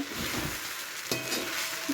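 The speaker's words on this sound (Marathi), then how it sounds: "आता आपली उसळ शिजत आलेली आहे" Sabudana usal cooking in a large kadhai gives off a steady, close sizzle with faint stirring scrapes, and a brief clatter partway through.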